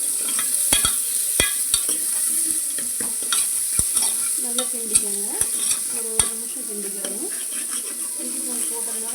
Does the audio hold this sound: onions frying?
yes